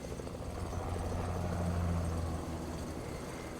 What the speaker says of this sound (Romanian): Uite-i pe aia cu elicopter.